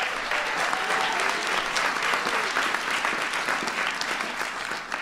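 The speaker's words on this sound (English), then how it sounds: "Give John a big round of applause." A large audience at a science event in a hall bursts into dense, sustained applause, loud and steady for several seconds with no talking over it.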